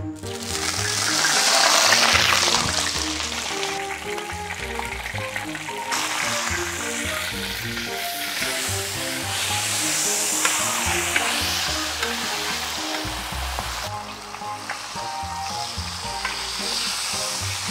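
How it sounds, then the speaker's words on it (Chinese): Fish fries in a hot pan in a home kitchen, a loud, steady crackling sizzle with a continuous dense texture and occasional stirring scrapes throughout, no talk. "把鱼煎一下"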